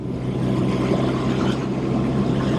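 A 1971 BMW R75/5 motorcycle engine runs at over 4000 RPM while riding at speed, a steady loud drone mixed with rushing wind noise that continues without a break.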